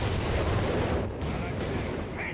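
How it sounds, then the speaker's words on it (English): Dense MG-42 machine gun and G-43 rifle fire in the World War II strategy game Company of Heroes 3, a continuous loud clatter of shots with a brief lull midway and some faint voice mixed in. "holding off against the advancing second from north with the MG-42 and the G-43s"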